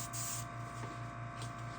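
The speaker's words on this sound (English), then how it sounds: "we're just blowing water out right now" An airbrush blows water out during cleaning, a steady hissing air spray with a low pulsing compressor hum underneath, continuous and close, without any voices.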